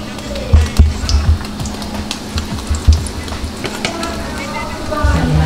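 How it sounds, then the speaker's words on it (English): Breaded pieces sizzle and crackle steadily in a frying pan, close and fairly loud, with a few louder pops and scraping stirs scattered through. "A nice little sizzle."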